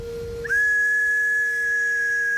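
A single shrill whistle from an old metal whistle found metal detecting is blown and held steadily for about two seconds, loud and close.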